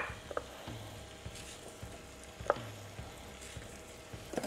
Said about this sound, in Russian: И сейчас я поджарю немного муки